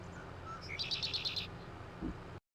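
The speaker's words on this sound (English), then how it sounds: "I'm getting used to this critters mod that they've added, having different bird noises" Bird chirps from a critters mod in Farming Simulator 22: a quick run of five or six bright, evenly spaced tweets over a low ambient rumble, with a dull thump near the end.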